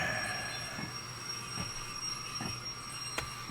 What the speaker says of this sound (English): That's the fucking train brakes.